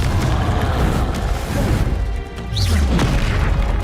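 A Confringo fire spell bursting in the Hogwarts Legacy game, a loud, dense booming blast that rolls on for several seconds with a brief dip and then a second heavy low rumble, no speech over it.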